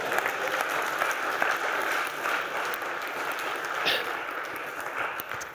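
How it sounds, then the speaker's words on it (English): Audience applause at a school talk by a Paralympian motivational speaker, a moderate steady patter of clapping from a crowd, heard at a distance and fairly soft, lasting the whole stretch. "Usually when I speak at schools, this is when they clap, you know."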